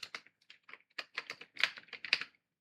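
Quick keystrokes on a computer keyboard while entering a formula in Google Sheets, a close, dry burst of separate clicks in uneven rhythm, with no voice over them.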